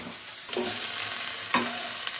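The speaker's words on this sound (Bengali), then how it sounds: "এবার পেঁয়াজটা দিয়ে দেবো।" Chopped onions, 500 grams for 800 grams of chicken, go into a pot for an oil-free chicken recipe and are stirred, giving a steady low sizzle with two brief scraping stirs, no voices.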